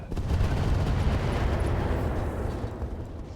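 Mech weapons fire in the BattleTech game RogueTech as a dense, continuous roar of gunfire and blasts that holds steady for several seconds and then eases slightly, with no voices over it.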